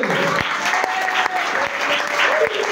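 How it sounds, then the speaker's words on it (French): A worship congregation applauds continuously in a dense, even wash of clapping, with a few scattered voices rising over it. "applaudissons pour notre Dieu"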